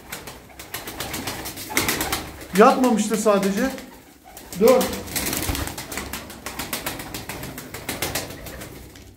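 Tumbler pigeons coo in a few soft rounded bursts and flap their wings in quick flutters, while someone talks over them.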